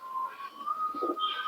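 Native Giribaz pigeons at a pigeon sale give a soft, continuous whistling coo, with a steady tone running through the whole stretch at moderate, close level.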